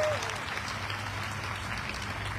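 An audience at a motivational speech breaks into sustained applause, a dense wash of clapping from a crowd, steady and fairly loud, with a faint voice at the very start.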